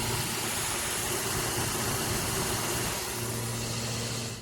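A Mercedes G-Class engine with turbo trouble runs steadily and fairly loud, a close idling drone with a low hum throughout that eases off slightly near the end.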